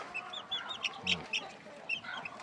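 Two-week-old chicks on a free-range farm peep and cluck in a steady stream of high, short calls, close by and moderately loud against a noisy background.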